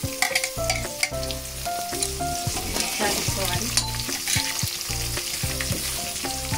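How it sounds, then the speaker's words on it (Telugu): Onion and small chopped tomato pieces fry in a pan for uggani, a village-style dish, producing a loud, continuous close sizzle with stirring scrapes, while music plays underneath and a voice briefly speaks. "ఉల్లిగడ్డ వేగిపోయింది. ఇప్పుడు వెంబడే చిన్నగా కట్ చేసి పెట్టుకున్న టమాటా ముక్కలు"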